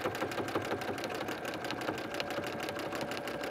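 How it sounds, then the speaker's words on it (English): A sewing machine runs steadily while stitching a quilt for trapunto work, a close, continuous rapid whirring and clattering with no pauses. "I think you need something to help you get the quilts through the machine"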